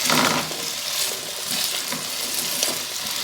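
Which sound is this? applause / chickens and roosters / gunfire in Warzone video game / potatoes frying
potatoes frying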